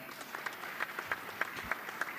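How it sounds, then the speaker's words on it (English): Modest audience applause at a panel discussion on digital development, fairly faint and thin, with a handful of distinct claps popping out over a soft background wash. "Another round of applause for that."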